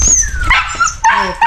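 A hungry pet dog, named Tuga, gives a few short, close barks and yips with whimpering tones, separated by brief pauses, with no talking over them.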